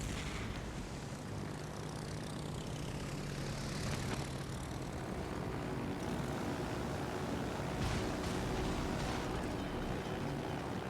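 Fighter aircraft launched from a carrier in World of Warships Legends, a droning propeller engine hum over a busy naval battle, with a few sharp bursts and swells, no talk.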